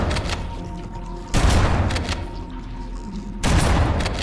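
Sustained burst of weapon fire from a player in Halo: Combat Evolved, dense crackling shots with two louder surges, close and loud, no talking.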